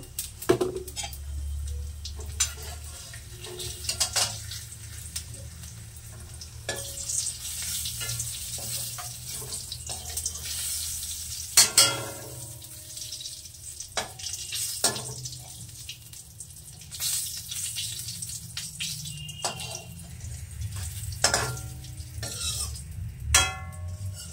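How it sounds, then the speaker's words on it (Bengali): Cumin seeds frying in oil in a pan, a faint, uneven sizzle with intermittent clinks and scraping of utensils, alone without talk. "আমি এই তেলের ভিতরে কটা বেশি করে জিরে দিয়ে একটু ভেজে তুলে নেব।"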